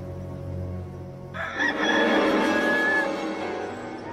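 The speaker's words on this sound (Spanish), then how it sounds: "Y al instante cantó un gallo." After a low rumbling hum, a rooster crows loudly and close, one long stretched call against the background.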